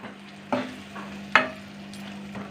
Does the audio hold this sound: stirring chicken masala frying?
yes